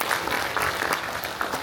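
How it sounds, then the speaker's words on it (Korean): Residents at a redevelopment briefing meeting give a short burst of applause, a brief even patter of many hands clapping in a hall. "다시 한번 자세한 설명을 해주신 감정평가사님께 뜨거운 박수 부탁드리겠습니다"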